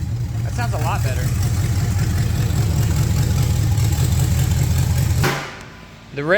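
Datsun car engine with a rough startup fault, revving to a loud, steady, close drone that holds for about five seconds before cutting off sharply, with people talking over it.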